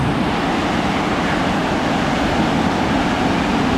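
Nabuyole Falls near Webuye, Kenya, pours down as a constant broad roar of rushing water, loud and unbroken with no voices.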